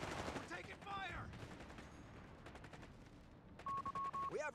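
Gunfire crackles in a Company of Heroes battle, rapid machine-gun bursts and scattered single shots at moderate distance, with game voices and a short electronic beeping tone near the end.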